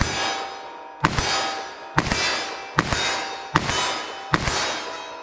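.357 Magnum rounds strike a steel target in five evenly spaced, sharp metallic clangs, each ringing out briefly before the next.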